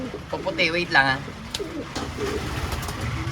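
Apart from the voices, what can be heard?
pigeons cooing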